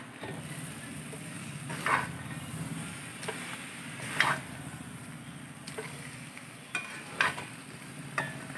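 A ground paste of onion, ginger and garlic fries in a pan while pulao is being cooked, giving a steady low sizzle broken by a few sharp scrapes and stirring knocks, close by and with no talking.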